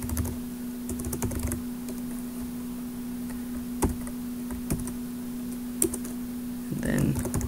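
Keys clatter on a computer keyboard as code is typed, a run of light irregular taps with a few sharper clicks over a steady electrical hum, and a voice briefly comes in near the end.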